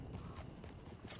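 Horse hooves from the video game Red Dead Redemption 2 give a quick run of clip-clop beats for a moment, quiet and brisk.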